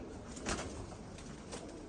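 Soft pigeon cooing in the evening, faint and low, set against a steady background hiss.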